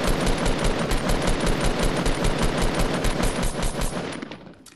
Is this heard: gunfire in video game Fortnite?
yes